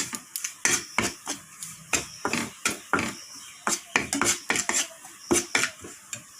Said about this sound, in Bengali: সুজিগুলো একটু প্রথমে ভালো করে নেড়ে চেড়ে ভেজে নেব।